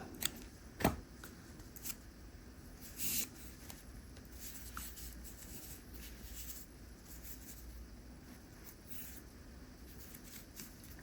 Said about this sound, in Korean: 다음 이 실은 길게 남겨주고 잘라주세요.